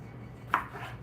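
A single knife chop through serrano and jalapeno peppers on a cutting board, a brief, fairly clear thunk that stands alone over a quiet room.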